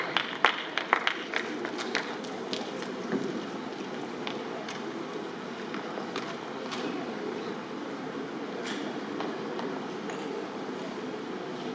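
Applause from a conference audience at a medical education plenary session, a dense, steady wash of many hands clapping at moderate loudness, starting with a few sharper claps and holding evenly for the whole stretch.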